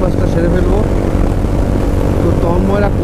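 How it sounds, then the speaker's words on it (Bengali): A motorcycle with a loud aftermarket exhaust roars steadily at speed on a highway ride, with a dense engine drone, heavy wind buffeting and no letup. A voice talks faintly under the engine. "আর বাইকের সাউন্ড তোমরা হয়তো শুনতে পাচ্ছ গোপ্রোতে,"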